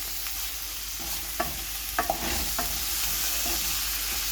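Sausages fry in a pan with onions and apples, a steady broadband sizzle running throughout with a few sharper stirring scrapes and clicks near the front.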